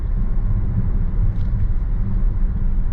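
Inside a 2020 Range Rover Sport HSE, the turbocharged engine pulls hard under acceleration, giving a steady, loud low rumble that swells and dips slightly while the car gains speed, with no talking.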